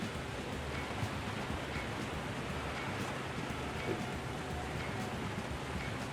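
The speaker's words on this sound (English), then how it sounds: "Oh, it is raining." Steady rain pouring in the video game Rue Valley, a soft, even hiss of falling drops continuing without a break at low level.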